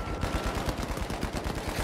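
Rapid gunfire from The Finals, a competitive team shooter, as a player opens fire on his own teammate; a dense, continuous burst of automatic shots rattles steadily for the whole stretch, loud and close with no voice over it.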